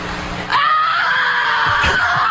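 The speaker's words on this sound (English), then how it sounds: "That's just a scream of frustration" A woman lets out a long, loud scream of frustration that starts abruptly and holds for nearly two seconds.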